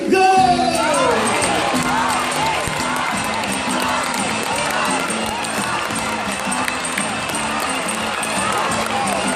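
An audience at the High Flyers bird show in Jurong Bird Park cheers and shouts loudly and continuously, a dense crowd roar with children's voices mixed in and an announcer's voice faintly underneath.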